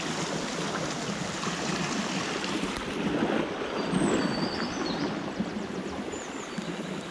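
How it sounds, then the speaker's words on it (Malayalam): A forest river runs high and swollen after heavy rain, giving a steady, dense rushing roar that holds on without pause. There is no speech. "അപ്പം ഇതാണ് നമ്മുടെ പുഴ."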